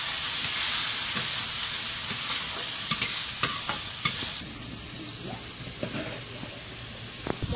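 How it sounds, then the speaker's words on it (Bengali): Spice paste with green chilli, chilli powder and a splash of water stir-fried in a pan, a loud close sizzle broken by scattered clicks and scrapes of a stirring utensil, easing slightly toward the end. "দিয়ে মশলাটা কষিয়ে নেব"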